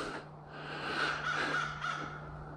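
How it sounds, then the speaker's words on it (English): A crow caws a few times, faint and somewhat distant, at a wooded campsite in the Eagle Point NYSDEC campground. "That's what the crow just said."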